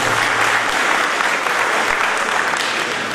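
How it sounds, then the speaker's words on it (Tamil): A large crowd claps loudly and continuously at a fine arts awards function in Alandur, a dense, even roar of applause with no speech over it. "அவருக்கு நீங்கள் ஒரு பலத்தை கரகோஷம் கொடுக்கணும்."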